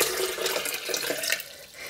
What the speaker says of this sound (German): Ich habe hier einen halben Liter Wasser, kalt. Den schütte ich in meinen